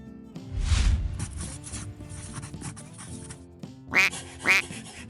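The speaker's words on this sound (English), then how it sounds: "Duck." A farm duck gives two sharp, loud quacks in quick succession near the end, after a soft whoosh and a quiet, rustly stretch.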